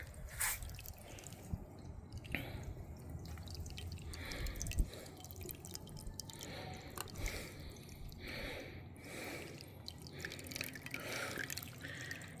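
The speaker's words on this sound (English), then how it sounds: "And that starts flowing right. It makes 3 nice little streams." Water trickles and drips from a hummingbird birdbath fountain that feeds three small streams, making a faint, continuous patter of soft splashes and droplets close by, with no talking.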